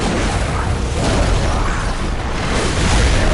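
A loud, broadband explosion in the video game Bloodborne, set off by an enemy that detonates on death, booming heavily and filling the whole stretch with a sustained rumbling blast.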